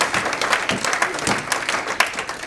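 A church congregation applauds for the Lord, a steady dense clatter of many hands clapping close by that fills the room, with a faint voice mixed underneath.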